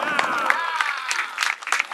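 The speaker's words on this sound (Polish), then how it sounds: "wielkie brawa dla Corteza!" An audience at a longsword fencing tournament applauds a fencer, scattered clapping and crowd noise under a voice calling out over a loudspeaker.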